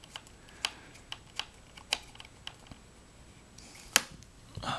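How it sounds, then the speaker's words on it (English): Screws being driven into an Alienware 17 R4 laptop during an M.2 2242 SSD install, with scattered sharp faint clicks and taps at uneven intervals in a quiet room. "I'm gonna now fully screw everything"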